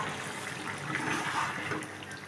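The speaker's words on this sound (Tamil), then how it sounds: "நல்லா கொதிக்குது" Continuous bubbling, gurgling liquid at moderate volume, a pot of ridge gourd kurma curry at a rolling boil, with no talking.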